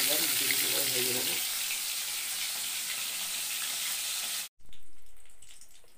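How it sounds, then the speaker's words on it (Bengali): Bhola fish frying in hot oil in a home kitchen, a steady broadband sizzle running evenly for several seconds, briefly cut off near the end before resuming, with no voices over it. "মাছটা ভাজা বসিয়ে দিলাম, দুটো দুটো করে ভেজে নেবো"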